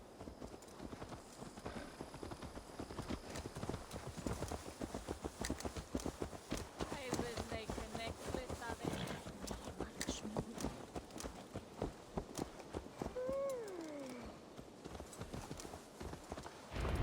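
Steady clip-clop of horse hooves walking on a hard surface in the video game Assassin's Creed Valhalla, continuous and close, with a faint whinny and voices murmuring in the background.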